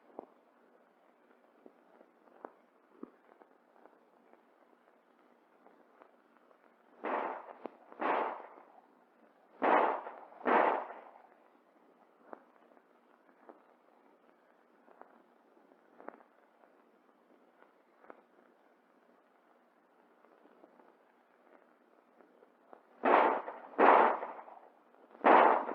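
Colt 1911 handguns fire at a target range during point-firing practice, sharp reports coming in quick clusters of two or three with long gaps, over faint crackling background noise.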